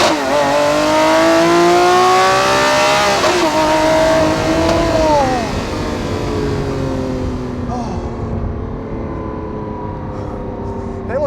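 A Lamborghini Aventador SVJ engine screams loud and close, its pitch sweeping up and then falling, with sharp pops and bangs before it settles into a lower, steadier roar.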